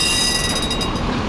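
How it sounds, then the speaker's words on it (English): A tram passing on the street in Kyiv, Ukraine, loud and close: a continuous rumble of rolling wheels on rails with a high metallic ring above it and no talking. "Here's another tram"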